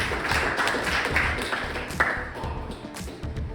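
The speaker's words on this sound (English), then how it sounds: "let's give them a big round of applause as they come on up" Audience applause at a travelling magic show, dense steady clapping filling the room with a few sharper claps standing out, no talk over it.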